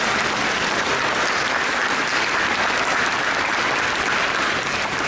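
Dense, steady audience applause at an auto show debut of the 2020 Toyota Highlander, loud and continuous throughout with no voices standing out above the clapping.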